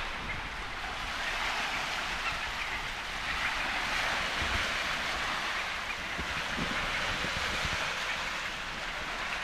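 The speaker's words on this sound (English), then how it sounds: "Oh, the wind is still blowing a gale." A strong gale blows along the rugged Scottish coast by a jetty, a steady, loud roar of wind buffeting the microphone over surf, unbroken for the whole stretch.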